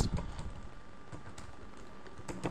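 Typing on a computer keyboard while filling in a bank transfer purpose field, a quick irregular run of soft key clicks, close and fairly quiet, no talk.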